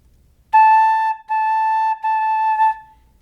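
A flute plays a single clear, steady note, tongued into three separate articulations with short breaks between them; the tone is close, pure and alone, with no talk.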